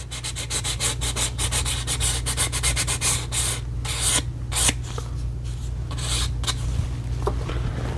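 Sandpaper scuffs the surface of a one-piece Arizona Custom revolver grip in steady back-and-forth rubbing strokes, fast and rhythmic at first, then slower and more spaced, close-up with a constant low hum beneath.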